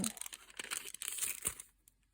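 Biodegradable plastic packaging holding stationery stickers crinkles and rustles faintly as it is handled up close, in a quiet room, trailing off into near silence.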